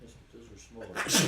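A single sharp sneeze bursts out at the end of a tabletop game session, close and loud, following a stretch of quiet conversation among players.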